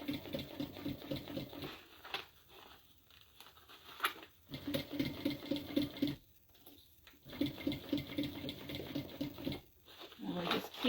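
Sewing machine stitching a fabric tote bag, with bursts of rapid mechanical whirring that start and stop several times, separated by short pauses, close and moderately loud.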